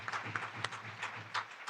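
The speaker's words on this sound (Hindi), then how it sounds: "आइए हम उस परमेश्वर के लिए तालियां बजाएं" A church congregation claps for God at an Easter resurrection service, a steady patter of many hands with a few sharper bursts, fairly faint and diffuse throughout.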